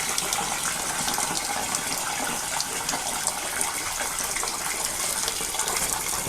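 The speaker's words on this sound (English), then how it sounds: "And you can only do so much water in because you gotta let it come out." Water gushing and flushing through a steam boiler during a washout, a loud, steady, close rushing flow that continues without a break.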